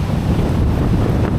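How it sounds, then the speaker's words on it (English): Strong gusty wind roars across an outdoor plaza with a fountain, a loud, constant low rushing buffet against the microphone with no talking. "it is extremely windy today"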